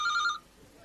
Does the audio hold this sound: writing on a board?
no